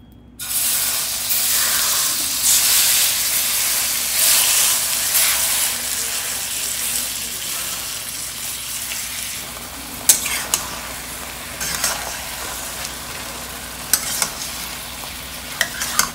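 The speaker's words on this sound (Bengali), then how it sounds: "কড়াইটা গরম হয়ে গেছে, এবার আমি বাটার দিয়ে দিলাম, বাটারটা মেল্ট হয়ে গেলে ম্যারিনেটেড চিকেনটা দিয়ে দেবো।" Butter melts in a hot wok and then marinated chicken fries, producing a loud, continuous sizzle and hiss with occasional sharp pops and crackles that become more frequent later.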